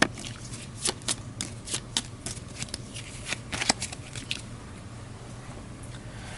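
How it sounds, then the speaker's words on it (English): Gaia Project board game cards shuffled by hand in a quiet room, a run of crisp riffling flicks and soft slaps close by, bunched in the first four seconds and then tapering off to near silence. "I'll give the rest of the reserve a shuffle."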